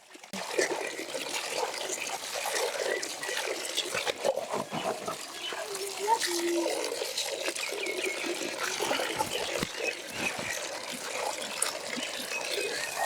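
Vegetables such as bottle gourd and potatoes being washed by hand in water, continuous splashing and trickling with irregular sloshes and knocks, a voice talking over it at times.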